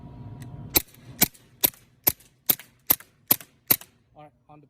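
T4E M4 training rifle firing at a target, nine sharp cracking shots in a steady quick rhythm, close and loud, followed by faint mechanical clicks.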